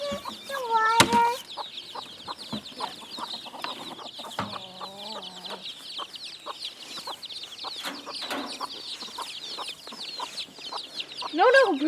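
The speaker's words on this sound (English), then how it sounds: "Here's my next chicken." Chickens cluck repeatedly on a small island farm, a steady scatter of close and distant calls with a few louder squawks, while people talk at times in the background.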